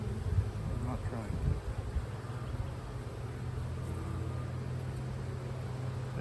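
Honey bees buzzing around an opened beehive, a continuous low drone with soft, close-by murmurs running steadily throughout.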